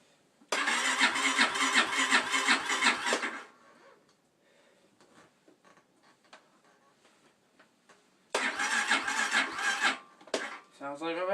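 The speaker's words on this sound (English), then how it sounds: "Sounds like my battery's dead" A 2013 Honda CRF230F dirt bike on full choke in cold weather, its starter motor whirring loudly in two bursts of several seconds each, separated by a quiet pause, failing to catch on a dead battery.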